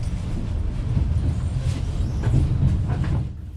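Ukrainian Railways Tarpan first-class train running from Kyiv to Odesa, a steady low rumble of the carriage in motion with faint rattles, heard from onboard and fading slightly at the end.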